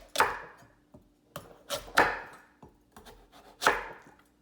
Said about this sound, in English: take your sharp knife, and we're gonna cut straight down, just like that